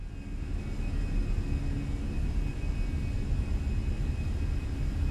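Fenix A320 takeoff roll in Microsoft Flight Simulator: a steady, loud engine rumble and broadband roar holding constant throughout, with faint high whining tones above it.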